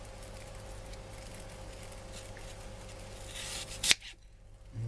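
A knife slicing through a peeled apple to halve it, a crisp crunching cut building to a single sharp snap as the blade goes through, close and alone over faint background hum.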